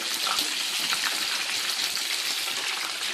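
Meatballs simmering in a pot of sauce for couscous, a steady bubbling, hissing wash that stays even and close throughout, with no voices over it.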